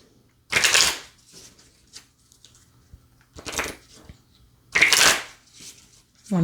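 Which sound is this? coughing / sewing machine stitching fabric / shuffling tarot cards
shuffling tarot cards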